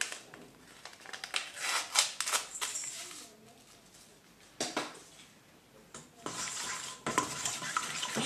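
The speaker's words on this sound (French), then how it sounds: "Je mélange." A spoon or whisk stirs pancake batter ingredients, melted and mixed with vanilla sugar, in a bowl, giving close scraping and swishing strokes in uneven bursts with brief pauses.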